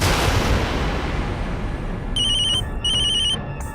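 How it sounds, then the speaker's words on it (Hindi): A telephone in a Hindi TV drama rings in short repeated electronic bursts, two clear rings heard over a steady loud rushing background hiss. "ऋषभ का फोन।"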